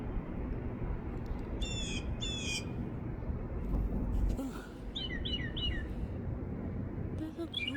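A wild bird calls from a distance in repeated short chirping bursts that seem to mimic another species, heard over steady outdoor background noise with people talking quietly nearby.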